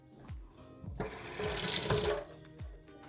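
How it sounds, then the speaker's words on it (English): A kitchen tap runs as garlic scapes are rinsed off, a close hissing gush lasting about a second, set between several soft low thumps of handling. "let's wash this off"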